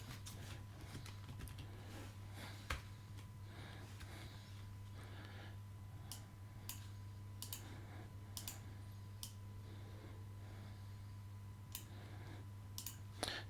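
Someone typing on a computer keyboard: a loose series of light, close clicks and taps over a steady low electrical hum, without talking.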